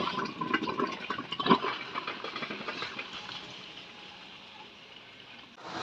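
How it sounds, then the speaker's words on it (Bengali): Raw green mangoes being washed by hand in water: close sloshing and splashing with a brief louder splash early on, fading to a softer trickle, no speech. "আমগুলো ভালো করে ধুয়ে নিছি"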